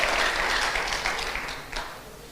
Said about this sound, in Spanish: Dele ese aplauso al Rey de Gloria.